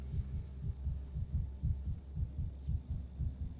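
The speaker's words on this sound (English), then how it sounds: "Heartbeats too fast, but that could be a personal trait." A fast heartbeat from the video game Pathologic thumps in steady, low double beats, close and prominent over a soft hum, with no voices.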